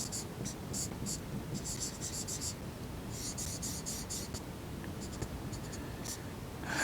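A pen writes out a maths solution in short scratching strokes and bursts, close but faint over a steady background hiss.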